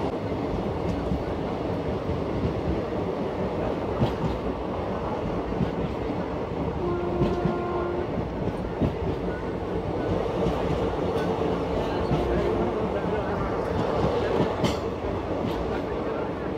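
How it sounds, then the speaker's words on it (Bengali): A passenger train rolls onto the Pamban railway bridge, its wheels keeping up a steady, dense clickety-clack and rumble heard from on board, loud and unbroken for the whole stretch. "আমাদের ট্রেন এখন পম্বন স্টেশন পার করলো"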